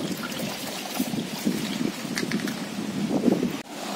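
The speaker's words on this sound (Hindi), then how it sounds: "यहाँ से पानी का स्रोत आ रहा है।" Water trickles and dribbles steadily from a spout at a Hindu temple's Shivling, carrying milk offerings, a soft continuous close-up flow with faint background ambience.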